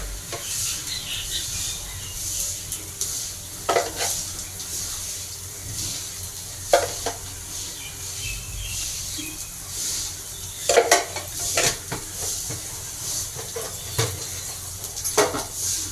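Pointed gourd sautéing in oil gives a low, steady sizzle beneath scattered scrapes and clinks of a utensil against the pan, with several sharper stirring knocks spread across the stretch.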